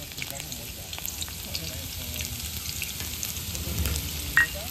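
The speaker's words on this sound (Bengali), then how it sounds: "সেই ফলটা এবার আমি গরম তেলের মধ্যে দিয়ে দেব" A steady, moderate sizzle of datura fruit dropped into hot oil, frying continuously and close by for a few seconds with a brief clink near the end.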